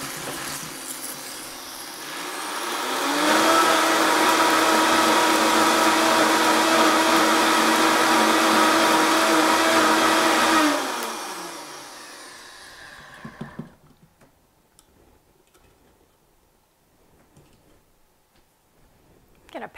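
A Vitamix blender powders dried kale, its motor roaring loud and steady for about eight seconds with a pitch that rises on start and falls on shutdown, then a few light knocks and clicks in near quiet.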